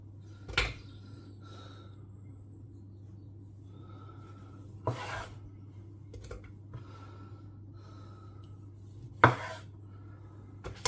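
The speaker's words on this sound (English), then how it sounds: "Chop some tomatoes" Three sharp knife strikes on a cutting board as homegrown tomatoes are chopped, spaced several seconds apart over a low steady kitchen hum, each thud standing out clearly.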